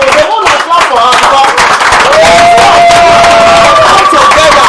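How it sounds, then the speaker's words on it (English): At a Rotary Club of Abuja gathering, an audience claps for a woman. Loud, continuous clapping from the crowd mixes with voices and a sustained tonal sound. "So they want to clap for her"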